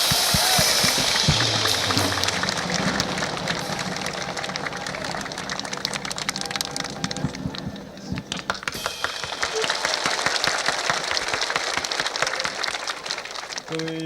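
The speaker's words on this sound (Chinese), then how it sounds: "现在让我们以最热烈的掌声来欢迎最丑陋的林峰先生" Loud, sustained applause from a large crowd of troops at an evening military gala, welcoming the entertainer Ling Feng on stage. Dense clapping fills the whole stretch with a brief dip midway, and voices mix in underneath.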